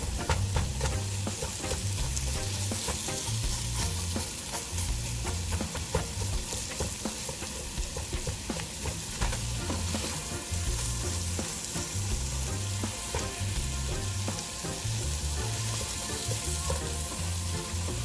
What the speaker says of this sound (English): I'm going to start using my spatula to shred the jackfruit